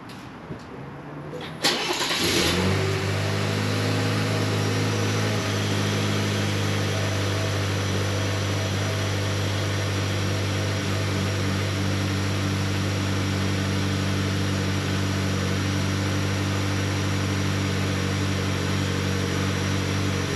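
A 2023 Chevy Colorado pickup engine cranks briefly after a quiet moment, catches, then settles into a loud, steady idle with a constant low hum that runs evenly for the rest of the stretch.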